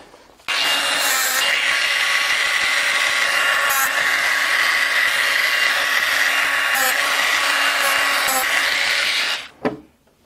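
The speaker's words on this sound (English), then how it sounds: "as I heat that with the grinder" A grinder runs against old animal glue on a Boulle cabinet. A loud, close, continuous abrasive whir starts suddenly, holds steady for about nine seconds and then winds down and cuts out.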